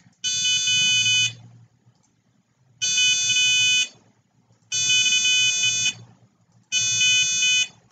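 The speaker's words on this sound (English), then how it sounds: "We created an alarm clock." Electronic alarm clock buzzer built as a microcontroller lesson project, sounding four loud, harsh one-second bursts separated by short pauses.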